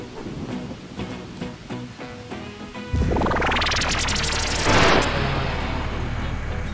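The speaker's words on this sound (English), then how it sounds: "The intensity of rains has increased." Steady rain falls, then a loud rumble of thunder breaks in and heavy rain roars on, close and constant.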